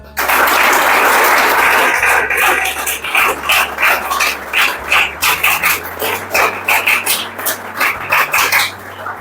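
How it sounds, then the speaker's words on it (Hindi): A crowd claps loudly at a two-year foundation day celebration for the Ujjwal Bhavishya rehabilitation organisation: dense, sustained applause at first, then breaking into uneven bursts of clapping that continue to the end. "तो सभी एक बार जोरदार ताली से"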